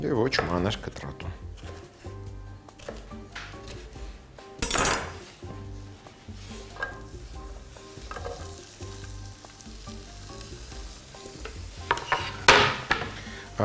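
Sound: sweet pepper frying in a pan

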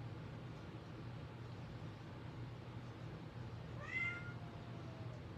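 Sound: cat meowing

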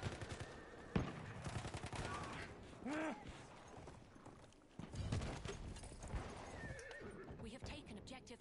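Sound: horse hooves in a video game

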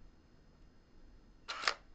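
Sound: Canon EOS 1D Mark III shutter release, mirror going up

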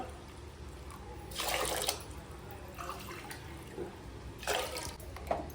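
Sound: water being poured for cooking lentils

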